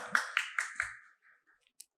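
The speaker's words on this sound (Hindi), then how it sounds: "क्यों धीमी ताली क्यों बजाते हो?" A few soft claps from listeners at a religious discourse, four distinct claps in a slow even rhythm that then fade into faint scattered taps, quiet and close with no talking.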